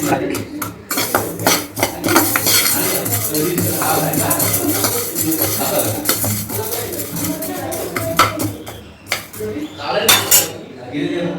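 Coriander seeds dry roasting in a pan are stirred with a metal spoon, giving busy, close scraping and clinking against the pan throughout, with a voice speaking now and then.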